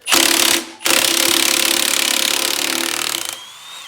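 An impact wrench hammers at bolts on a locked-up Mazda 12A rotary engine from a 1980s RX-7 (SA22C), a loud, close, rapid rattling burst, a brief pause, then a longer sustained run that cuts off.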